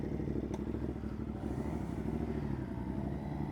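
A 2022 Ducati Monster motorcycle engine runs at a steady, close, throbbing idle, a continuous low rumble with no talking.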